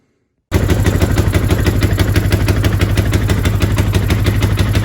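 A 2004 Polaris Scrambler 500 ATV engine runs loud and close, a steady rapid chugging idle that starts abruptly and continues evenly without talk.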